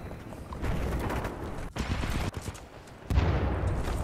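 Turret gunfire in Titanfall 2 crackles in dense rapid bursts, close and loud, broken by short gaps and a sharp sudden cut before a heavier barrage resumes.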